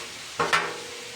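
A spoon stirs softened jackfruit and mung beans in a cooking pot, giving two short scraping, sloshing strokes close by with no talk.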